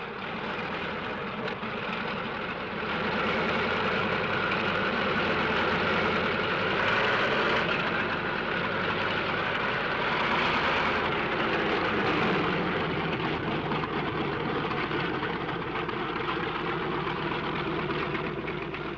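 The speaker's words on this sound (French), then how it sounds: "Sur les parkings, les moteurs tournent." Several WWII fighter aircraft engines idle on the parking area before takeoff, a steady, loud, dense drone that holds for the whole stretch with no talk over it.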